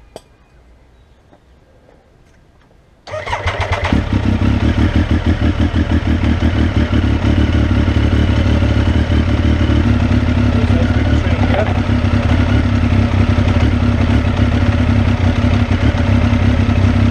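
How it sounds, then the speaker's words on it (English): A Triumph Daytona T595 motorcycle engine cranks and fires after a quiet moment, then settles into a loud, steady, slightly lumpy idle as it warms up before an oil change, heard close up with no talking. "Start the bike up, get it warm."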